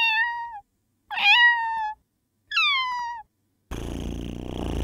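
A man imitates cat noises with three separate drawn-out, wavering meows, each followed by a short silence, before a burst of noisy background sound takes over.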